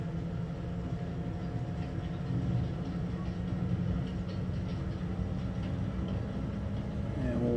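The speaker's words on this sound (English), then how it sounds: "lever moves forward, train speeds up" Train in a tunnel in Farming Simulator 25, a steady loud rumbling drone of the locomotive and rail running throughout with faint clatter, continuous and close.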